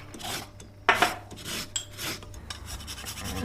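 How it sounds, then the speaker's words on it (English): A lemon is zested against a grater in a kitchen, close and fairly quiet: a series of short, uneven rasping scrapes with small metallic knocks. "You want to zest in some lemon."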